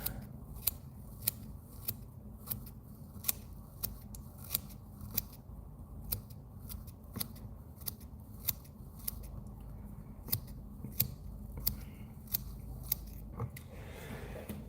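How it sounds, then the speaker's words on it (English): Scissors snipping fly-tying material at a tying bench: a steady series of crisp, close metallic snips repeats at a fairly regular rhythm, quiet and alone, with no voice over it. "I'm just gonna scissor cut it."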